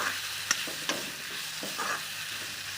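Dhekia fern greens fry with boiled potatoes in a pan, giving a soft, continuous sizzle, with a few light stirring scrapes.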